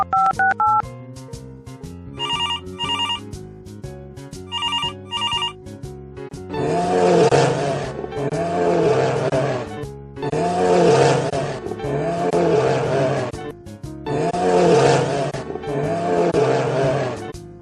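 A kids' toy phone game rings twice in bright electronic bursts after a few dialing beeps, then a cartoonish bear roars repeatedly in loud, rhythmic growling bursts with short pauses between them.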